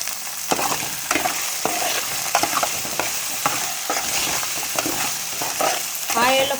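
Drumstick pieces fry in hot oil with ginger garlic paste for a drumstick tomato curry, a steady close sizzle broken by repeated scraping stirs of a spoon against the pan, with no talking.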